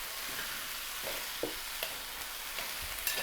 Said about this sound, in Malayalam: നമ്മുടെ കടല നന്നായിട്ട് നെയ്യിൽ വറുത്തിട്ടുണ്ട്